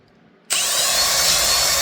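A power drill bores a small starter hole through a plate into a wooden board, starting abruptly after a near-silent moment and then running as a loud, close, steady whine.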